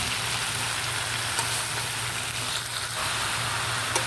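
Mixed vegetables for Filipino pinakbet sizzle steadily in a hot pan while being stirred. The frying hiss is close and continuous, with faint scrapes as the vegetables are moved around.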